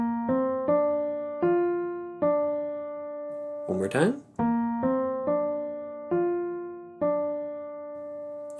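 Clear, sustained keyboard-like tones play a five-note major pentascale ear-test tune, do, re, mi, so, mi, then a short spoken line interrupts before the tune is played once more.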